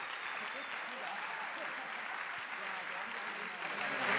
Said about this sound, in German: Herzlichen Applaus und herzlichen Glückwunsch.